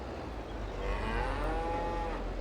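Cow mooing in the farming video game Farming Simulator 22, a long, loud, drawn-out low moo with harmonic wavering that sits over steady ambient game noise and lasts the whole stretch, with no talk.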